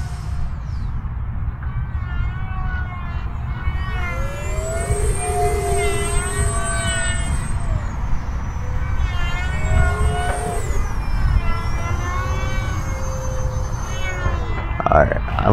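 An E-flite Habu 50mm electric ducted-fan RC model jet flies overhead, its high whine rising and falling in pitch as it passes, over a loud rumble of wind and outdoor noise.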